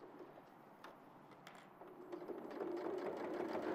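Sewing machine running steadily on a PVC project held with Wonder Clips, a faint whirring hum that grows slightly louder, with a few light clicks at the start.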